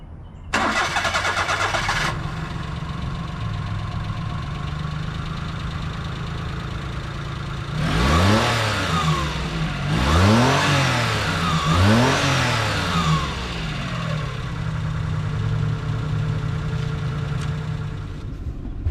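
A 1997 Daihatsu Midget II cargo two-seater cranks briefly and starts, then idles before three quick revs rise and fall, settling back into a steady idle, close and loud with no talking.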